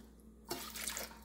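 Water poured into a pot for blueberry tart filling: a short, soft splashing pour that starts abruptly partway through, faint and close.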